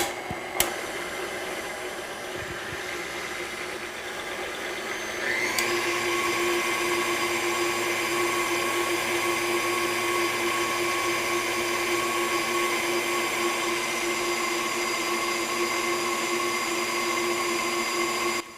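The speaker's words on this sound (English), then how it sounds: "I'll mix it on low speed. I'm using the dough hook. I'll increase the speed a little bit and just wait until it's nice and elastic." A stand mixer with a dough hook kneads khachapuri dough, a loud continuous motor whine that steps up in pitch and intensity about five seconds in as the speed increases, then holds steady.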